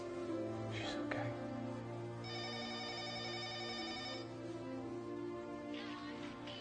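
A telephone rings in a home, a steady electronic trill repeating under a low hum, with a long sustained ring in the middle; faint household sounds around it.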